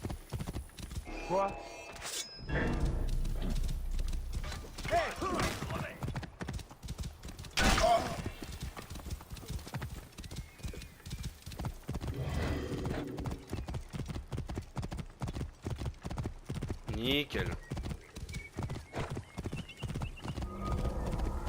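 Fast, loud hoofbeats of a horse galloping in Assassin's Creed Origins pound in a continuous rhythm with brief pauses, a neigh breaking through, while someone speaks briefly over the hooves.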